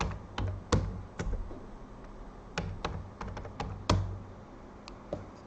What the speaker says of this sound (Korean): 이 타이핑을 해주셔야겠죠